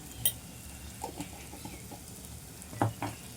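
Masala spices with dried bombil stirring and sizzling in a pan, a faint, steady fry broken by a few soft scrapes of the spoon.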